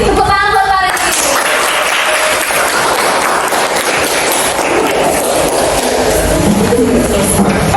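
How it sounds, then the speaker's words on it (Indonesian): Classroom applause from a group of students greeting a presenter, loud, dense and continuous throughout, with a few voices mixed in. "Tepuk tangan buat Farid."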